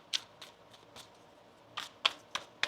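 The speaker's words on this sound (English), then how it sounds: "One more shuffle here, please" Tarot cards being shuffled during a reading, heard as a few soft, separate riffling bursts spread unevenly across the moment, fairly quiet and close, with no talking over them.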